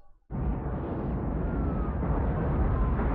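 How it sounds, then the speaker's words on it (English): Explosions from the 1998 movie Armageddon, a sudden heavy rumbling blast that rises abruptly and sustains as a loud, continuous roar. "How many explosions would you like, Michael Bay"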